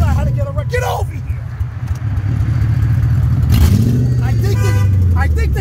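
A Lincoln Continental with a 32-valve V8 and open exhaust idles roughly, then rises into a loud rev that swells and falls back, while people talk nearby.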